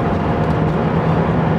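A 2003 Lotus Esprit sports car driving, a steady droning engine and road noise heard from inside the cabin, continuous and fairly loud over a short stretch with no talk.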